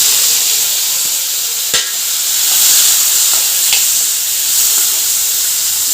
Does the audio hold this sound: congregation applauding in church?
no